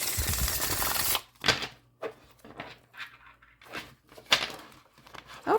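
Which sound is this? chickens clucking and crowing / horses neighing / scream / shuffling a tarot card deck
shuffling a tarot card deck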